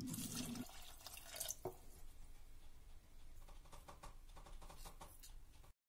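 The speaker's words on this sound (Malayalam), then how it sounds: "കുക്കറിലേക്ക് കപ്പലണ്ടി മാറ്റുക. ആവശ്യത്തിന് വെള്ളം ചേർത്ത് ഒരു നുള്ള ഉപ്പ് കൂടി ആഡ് ചെയ്ത്" Water poured into a pressure cooker holding peanuts, a faint steady splashing trickle running for several seconds before cutting off abruptly.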